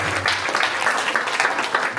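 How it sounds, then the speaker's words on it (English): Audience applause at a live presentation, a brief burst of many hands clapping with scattered sharp claps over a steady crowd wash, fairly loud and close. "Can we give Lily a round of applause?"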